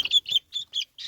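Blue Laced Wyandotte chicks peep in a brooder, five quick high chirps in a row, close and clear with no other sound.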